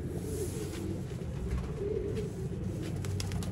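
Soft, low cooing from a Sialkoti Batera pigeon, a steady repeating murmur close to the microphone and fairly quiet, with no voices over it.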